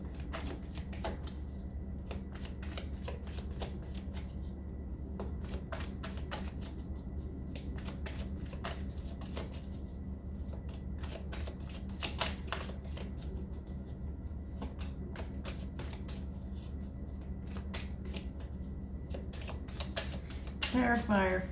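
Tarot deck being shuffled by hand, a long run of rapid papery riffles and card slaps repeating steadily and close up, with a voice quietly speaking near the end.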